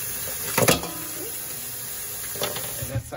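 Sea moss soaked in lime juice gets a last rinse under running tap water: a steady close hiss of flowing water with a few brief splashy bursts as the moss is handled.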